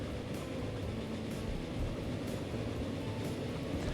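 A train running through countryside in Transport Fever: a steady, low rolling rumble with faint rhythmic clicks about once a second, continuous and moderately quiet, with no voices.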